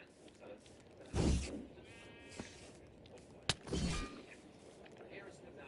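A sheep bleats in Minecraft: two short, close bleats a couple of seconds apart over a low background, with a brief sharp click between them.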